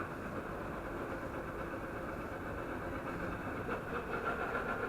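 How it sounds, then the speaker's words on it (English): Steady outdoor construction noise and passing traffic near a cave site on Madeira, a continuous low rumbling drone at a moderate distance with no talking. "Just the construction noises around and the traffic as well."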